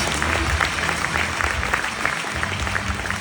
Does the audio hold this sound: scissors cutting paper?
no